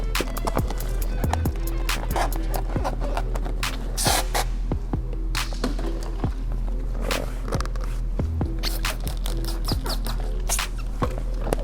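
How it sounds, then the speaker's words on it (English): A spray bottle mists slip solution onto the hood of a 2018 Porsche Macan during paint protection film installation. Many short, sharp spritzes come in irregular bursts over a low background hum. "Spray some slip."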